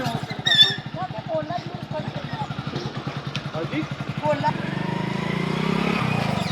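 Motorcycle engine chugging at low revs while riding and turning in second gear, a steady pulsing thump close by, with someone speaking briefly over it.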